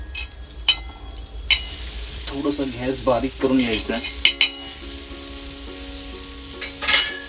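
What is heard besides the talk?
butter sizzling on a hot griddle (tawa)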